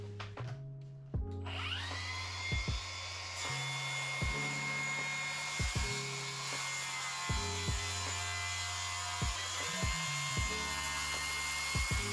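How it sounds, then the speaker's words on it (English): A track saw spins up with a high whine and runs steadily as it rips a straight edge along a rough-sawn birch board, with repeated low thumps and knocks beneath the continuous motor noise. "the first thing I'm going to do is chalk a straight line and track saw it"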